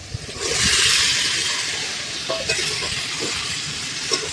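Pumpkin greens curry cooked in poppy seed paste and oil in a pan, with a loud hissing sizzle as the vegetables go in, then steady frying with scraping stirs, no talking.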